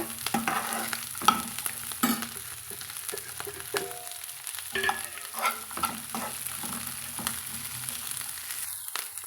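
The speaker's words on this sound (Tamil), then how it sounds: "இந்த பிரண்டை வந்து சேர்த்து வதக்கலாங்க எண்ணெயிலேயே" Chopped pirandai (adamant creeper) sizzles in hot oil as it is sautéed, a continuous frying hiss broken by repeated scraping stirs of a spoon in the pan, close up, with no talk.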